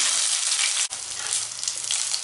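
Loud, dense, close sizzling fills the whole moment as ingredients sauté in a pan for sundakkai kuzhambu, a steady hiss broken once by a brief dip, with no voices.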